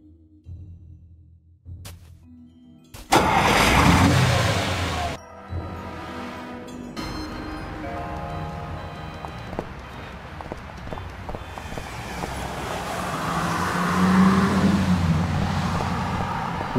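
Cars drive by in street traffic in the Sam & Max video game, with a loud whoosh of a passing vehicle and then a continuous rolling traffic drone that swells toward the end.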